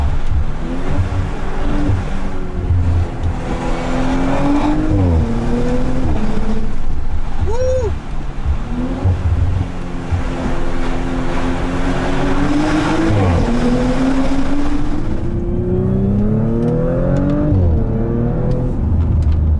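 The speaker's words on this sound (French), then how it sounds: "le moteur, quand tu es dans le haut du compte tour, il est super nerveux" An Audi RS5 2018 engine revving high, a loud sustained roar that climbs and falls through repeated rises in pitch, heard from inside the car and fading at the end, with no talk over it.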